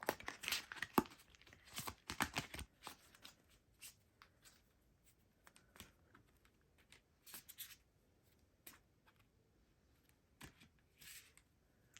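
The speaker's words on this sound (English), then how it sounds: "shuffle these cards" Tarot cards being shuffled by hand, giving a run of soft riffling, slapping and crinkling bursts, dense at first and then spaced out as isolated flicks, close and fairly quiet with no speech.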